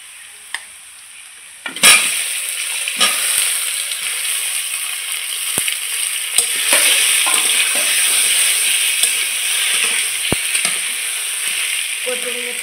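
Taro (kochurmukhi) pieces drop into hot oil in a pan, setting off a loud, continuous frying sizzle with scattered clinks and stirring scrapes, close up and without speech.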